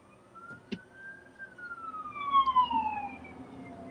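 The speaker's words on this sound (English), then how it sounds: "Oh no, it's an ambulance." Emergency siren sweeping past on a road as a driver pulls over, a long falling wail that dips in pitch as it passes, moderately loud and close, with traffic rumble underneath.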